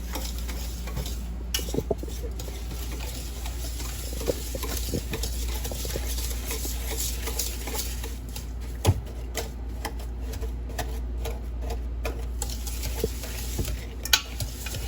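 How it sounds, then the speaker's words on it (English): Double chocolate zucchini bread batter being mixed by hand in a bowl, giving steady soft stirring and scraping up close, with scattered light clicks and taps against the bowl. "Now the goal is to go ahead and get all this combined right here."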